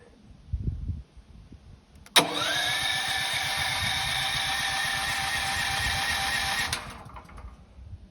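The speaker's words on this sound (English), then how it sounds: "sometimes it does take a couple times for the generator to actually start" A Westinghouse propane generator catches with a sharp start, then settles into a steady, buzzing run for several seconds before the sound drops away; soft knocks and handling noise come before it fires.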